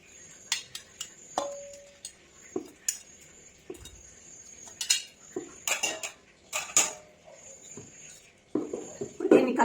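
Scattered clinks and scrapes of a spoon against a pot as about 2 kg of chicken is mixed with chilli sauce and tomato sauce, with irregular metallic taps and stirring noises at close range and no talking.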